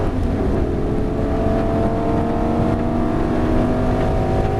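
A Lamborghini Gallardo on the Nogaro race track, its engine droning loud and steady from inside the car under acceleration, a sustained mechanical roar with tonal whine and no speech audible.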